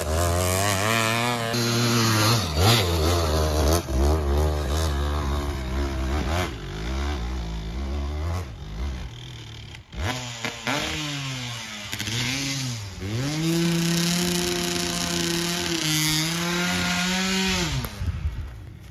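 An enduro motorcycle engine revs hard near a river trail, rising and falling in repeated throttle sweeps with a brief drop near the middle, loud and close for the whole stretch.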